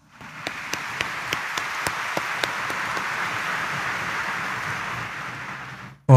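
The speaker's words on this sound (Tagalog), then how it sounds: "Pumalakpak nga ng malakas." Church congregation applauding loudly during a Sunday Mass homily, a sustained wash of many hands clapping with a few sharp nearby claps early on, ending abruptly.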